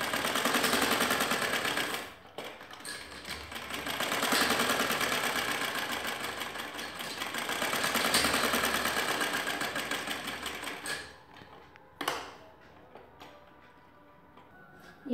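A sewing machine stitches a fold on a kurti made from an old chunni, a loud close whirring run with brief pauses and a short final burst.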